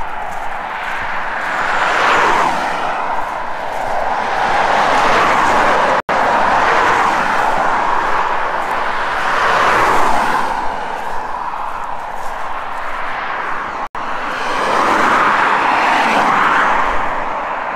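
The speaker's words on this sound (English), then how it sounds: "Traffic's fast though." Fast road traffic passes by in England, vehicles swelling loud and close, then fading in repeated whooshing waves roughly every few seconds, with no talking.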